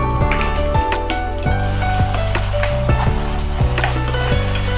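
Masala frying in a pan for a country chicken curry, a loud close sizzle with repeated rhythmic clacks of a spoon stirring against the pan, no speech.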